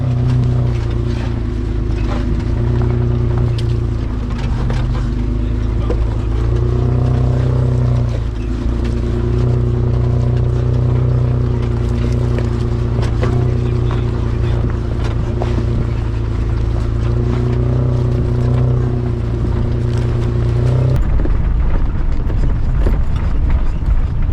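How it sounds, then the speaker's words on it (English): A four-wheel drive vehicle climbs a muddy bush trail at constant throttle, its engine holding a loud, steady droning note for about twenty seconds before the tone drops near the end. "as long as you keep, I like constant throttle, the thing just goes and climbs"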